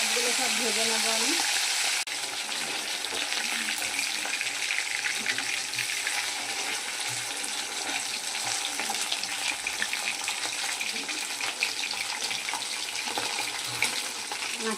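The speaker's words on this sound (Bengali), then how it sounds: "মাছগুলো সব ভেজে নেবো আমি।" Tilapia fish fry in hot oil in a wok, giving a dense, continuous crackling sizzle heard close up that stays steady throughout with no break.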